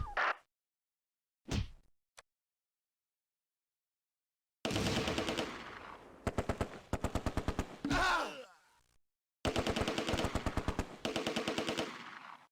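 Heavy gunfire in the WWII strategy game Close Combat: A Bridge Too Far, Polish paratroopers at Driel during Operation Market Garden. Isolated shots open, then long loud bursts of rapid automatic fire with brief pauses between volleys.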